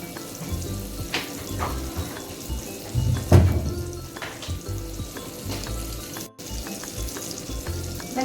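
Butter and a little oil sizzling steadily in a pan, a continuous close frying hiss with a few clinks and stirring sounds and no talking.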